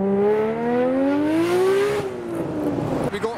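A modified Nissan R32 GTR revs its engine nearby at a car show, a loud rising then falling engine tone with strong harmonics, followed by broader rumbling noise.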